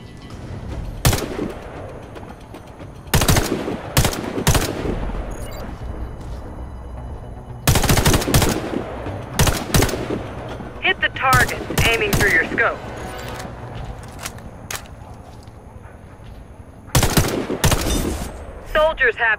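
Scoped rifle fire in the video game Warface, loud sharp shots in separated bursts and single cracks, with quieter game ambience between them.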